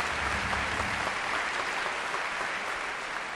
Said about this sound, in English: Let's give the other pianists a big round of applause.